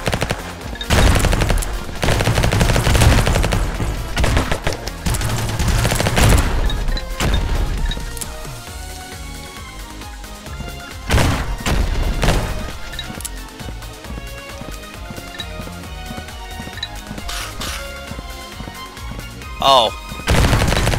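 Rapid gunfire in the video game Xolta, heavy machine-gun-like bursts and crashing impacts over about twenty seconds, loud and sustained with short pauses between volleys.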